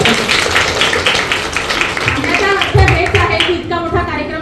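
Strong clapping from an event audience, honoring the host's women friends at a gathering, dense and steady throughout with some crowd voices mixed in.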